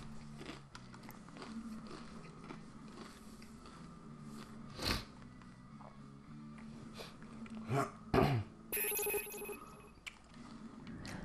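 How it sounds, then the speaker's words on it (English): Cheese-flavoured Doritos chips being munched close to the mic, soft irregular crunches and bites with a few sharper louder crunches, over a quiet low background rumble. "I'm currently munching on Doritos, cheesy flavor, and sipping on some Monster"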